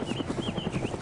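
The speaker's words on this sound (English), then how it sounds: "Heli's circling around." A helicopter circles overhead in DayZ, its rotor beating in a quick steady pulse with a faint whine riding above, moderately close.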